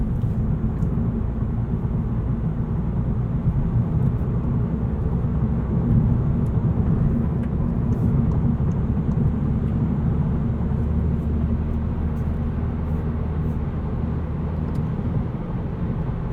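A 2020 Volkswagen Golf GTI accelerates to highway speed, heard from inside the cabin as a steady, loud, unbroken low engine and road drone with no talking.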